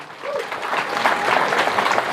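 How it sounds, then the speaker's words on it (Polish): A short burst of audience applause at a film festival, building quickly into dense, lively clapping from a crowd close by, with a faint voice at the start. "wielkie brawa dla nich"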